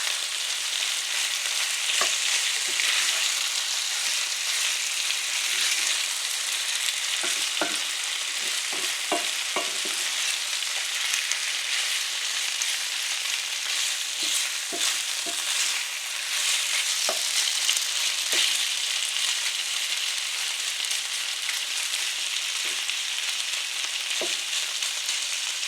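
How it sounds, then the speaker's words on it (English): Kung pao chicken frying in a pan, a steady bright sizzle throughout with scattered scraping clicks as the pieces are stirred around, close and continuous, no talk. "we're just going to let it cook, and we'll stir it around"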